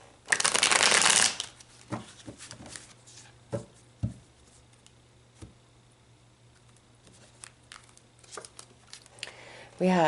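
Tarot cards are riffled in one loud burst, followed by quieter taps, slides and handling of the deck, close up and with no talking.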